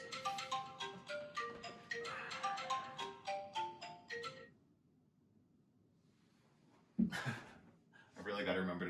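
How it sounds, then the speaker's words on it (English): A phone alarm rings out a bright repeating melodic ringtone pattern for several seconds, then stops; a sharp sound and speech follow. "I really got to remember to turn the alarms off on my phone before I start filming YouTube classes"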